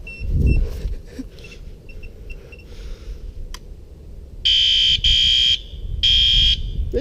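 A fire alarm of the kind sold at Walmart sounds in three loud, shrill electronic blasts near the end, preceded by faint beeps and ticks over steady room noise.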